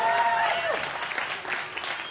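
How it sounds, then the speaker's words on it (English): An audience claps briefly at a spiritual center gathering. Moderately loud applause follows a short voiced sound at the start and fades within about two seconds. "You guys usually clap there."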